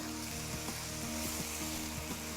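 Chicken rendang ingredients, including fine shreds and strands, fry in a pan with a steady, close sizzle and faint rhythmic stirring clicks, with no voices.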